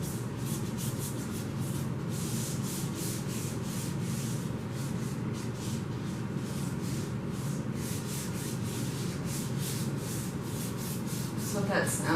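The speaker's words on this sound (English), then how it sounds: "So what that sound is I am smoothing out all the drips on the pedestal." A bare hand smooths out drips of acrylic pour paint on a table pedestal, making a steady, soft rubbing and swishing sound that runs without a break, close by and fairly quiet.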